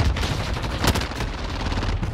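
Continuous gunfire from Call of Duty Modern Warfare, a rapid stream of shots with one sharp louder burst near the middle, loud and dense throughout with no talk.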